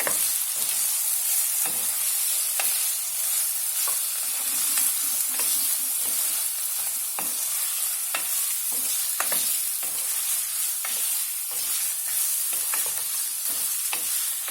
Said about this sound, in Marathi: आणि आता आपण ही काप केलेली तोंडली टाकूया। आणि त्याला परतून घेऊया।